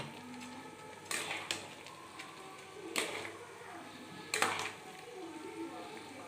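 A spoon scrapes and clatters a few times inside a pot as fried lentils are mixed into cooked rice for winter khichuri, with sparse, fairly close strokes over a quiet kitchen hum.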